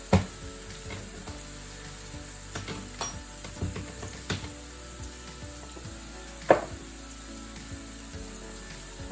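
Sirloin steaks frying in a pan with a little clarified butter, a soft steady sizzle broken by scattered clinks and scrapes of utensils, with no voices.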